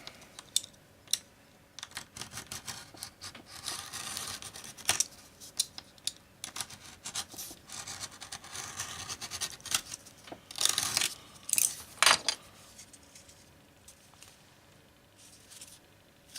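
Leather being cut with scissors for a belt loop, with irregular crisp snips and rubbing scrapes, plus a louder cluster of cuts near the end, close and otherwise quiet.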